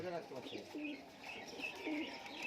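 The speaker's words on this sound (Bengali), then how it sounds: "প্রচুর পায়রা রয়েছে" Giribaz high flyer pigeons coo softly in a loft, low rolling calls repeating under faint chirps and background murmur.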